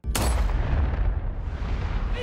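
A single sharp pistol shot cracks at the start, followed by a loud, booming reverberant tail that rumbles on and slowly fades.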